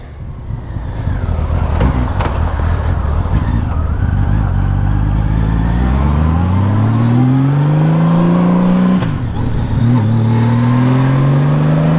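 Large 2000 Honda Valkyrie Interstate motorcycle riding at speed, its engine droning steadily and loudly close to the listener, with the pitch rising as it accelerates through the gears and a brief dip during a shift.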